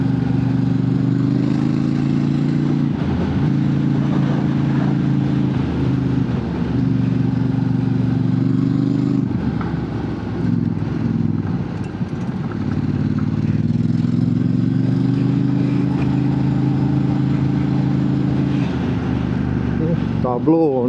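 A vehicle engine hums and vibrates steadily at close range, its low drone rising and falling slightly as the throttle is worked, with a faint rattle and clatter of the body riding along throughout.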